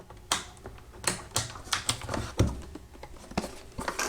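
Crisp plastic clicks from pressing push buttons, digital trims and switches on an XK K110 RC helicopter transmitter, irregular single taps close to the mic with no talking.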